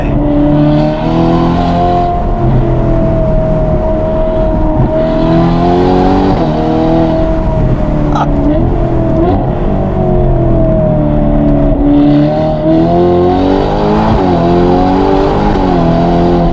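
A race car engine roars up close and loud, its pitch climbing and falling repeatedly through gear changes and throttle blips, a continuous revving howl with no voices.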